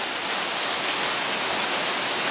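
Steady, dense rain falling, a continuous even hiss that fills the whole clip without pause, close and fairly loud, with no talking.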